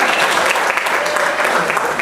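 Audience applause at a 2024 Indiana University graduation ceremony, honoring Phi Beta Kappa, a steady dense wash of clapping filling the short moment at even loudness.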